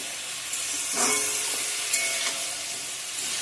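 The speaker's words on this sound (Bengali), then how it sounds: "ভালো করে ভেজে নিব" Cauliflower fries in a pan for a vegetarian dish, giving a continuous close hiss of sizzling oil with brief swells as the pieces are stirred.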